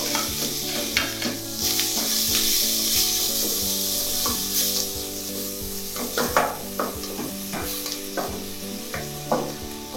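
Onion sizzles and fries in a pan for a sweet and sour sauce while a utensil stirs and scrapes it repeatedly, a steady close hiss with rhythmic scraping and no talking.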